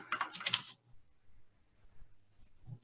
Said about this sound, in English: I have to type my password right.